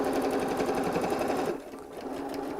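Sewing machine stitching a scrappy patchwork bag, a fast close motor buzz with rapid needle chatter that runs, then drops off abruptly partway through into quieter hum.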